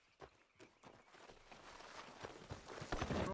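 Horse hooves clip-clop along in Red Dead Redemption 2, a steady run of footfalls that grows louder and busier toward the end, with no voices over it.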